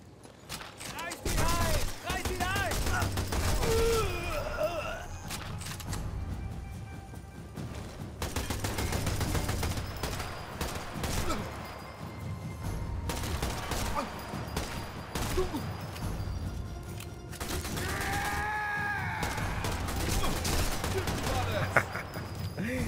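Bursts of rapid gunfire and explosions crackle in Sniper Elite 4 game action, with someone talking excitedly in Portuguese over them between volleys.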